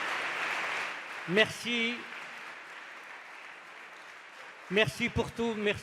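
Audience applause for a choir in a church forms a soft, continuous patter that fades through the middle, while someone speaks over it at the start and end.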